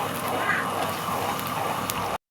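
Vadas deep-frying in hot oil over a high flame, a dense, continuous sizzle and crackle held at a steady moderate level close by, cutting off abruptly at the end.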